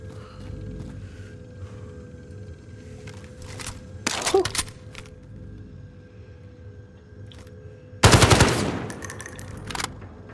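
SMG gunfire in the Call of Duty video game, two short loud bursts of rapid shots separated by quiet stretches, with faint clicks and a low background hum.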